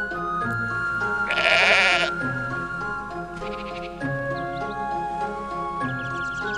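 Sheep bleat in the god game Black & White, a loud nasal bleat standing out over looping game music with chiming tones and soft ticking, followed by fainter bleats.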